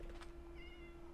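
A cat meows in the Minecraft video game, giving a short, clear in-game cry over a steady low background hum.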